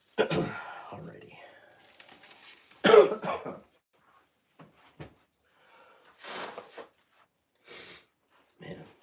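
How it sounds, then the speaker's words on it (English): Several close, harsh coughs and throat clearing from one person indoors, in bursts separated by quiet pauses, with a little soft speech and rustling in between. "the cough sounds worse than it is though"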